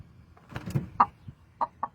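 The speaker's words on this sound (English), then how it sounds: "Craziest chicken I ever seen." A chicken clucks in short, sharp bursts, a handful of close calls spaced unevenly over a couple of seconds with soft rustling between them.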